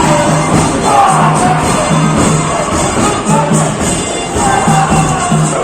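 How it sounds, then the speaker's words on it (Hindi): A crowd at an outdoor state festival celebration cheers and whoops loudly and continuously, the noise of the audience welcoming a team filling the whole stretch with no quiet gaps. "और दर्शक भी तालियों के साथ अभिनंदन कर रहे हैं"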